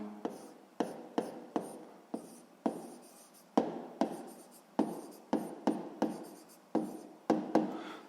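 Pen or chalk writing out a sixth-grade math equation, a quick rhythmic series of about fifteen short scratchy strokes, close and clear with no talking.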